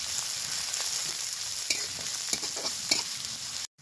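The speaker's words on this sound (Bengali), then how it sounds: "দিয়ে দিব কাঁচা লঙ্কা, দিব কুচানো পেঁয়াজ। খুব সুন্দর করে ভেজে নিব।" Chopped onion, green chillies and crushed garlic sizzle in hot oil in a home kitchen, a steady dense crackle with a few louder stirring clinks and scrapes, alone and close, cutting off abruptly at the end.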